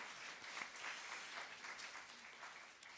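Congregation at a bilingual Korean-Japanese church service clapping in encouragement after a special hymn performance, soft, distant applause that stays even throughout.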